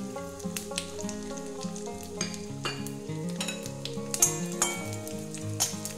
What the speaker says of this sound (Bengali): এবার আমি এই তেলের মধ্যে দিয়ে দিচ্ছি একটা শুকনো লঙ্কা, একটা তেজপাতা, 3-4টে ছোটো এলাচ, একটু জিরা, একটু দারচিনি আর 3-4টে লবঙ্গ।